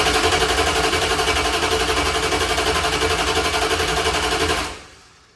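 A Mopar engine cranks fast on its starter without firing, a loud, rapid rhythmic whirring chug that runs steadily up close and then cuts off abruptly.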